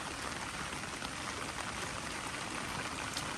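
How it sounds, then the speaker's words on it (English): Rainwater dropping through a perforated aluminum gutter guard, a steady dense patter and trickle of many small drops, constant and fairly soft, with no voices. "So once the water hits the surface, it just finds the available holes and drops through."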